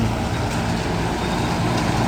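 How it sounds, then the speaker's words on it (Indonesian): An Eka bus pulls into a bus terminal, its heavy diesel engine droning steadily and close by, a constant low rumble without pauses or voices. "bus Eka jurusan"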